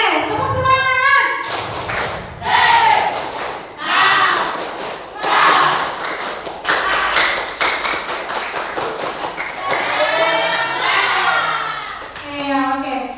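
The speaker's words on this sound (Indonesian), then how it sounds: "Oke, tepuk semangat." A group of people claps a rhythmic spirit cheer (tepuk semangat), loud repeated patterned bursts of claps, with voices chanting and talking along.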